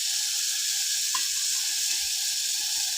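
Masala spices cooking in a pan, a steady bright sizzle with faint stirring scrapes underneath, continuous and close.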